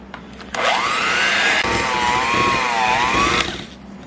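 An electric mixer whisks sticks of butter with white and light brown sugar for chocolate chip cookies, a steady loud motor whine starting abruptly, wavering in pitch through the middle, then cutting off after about three seconds.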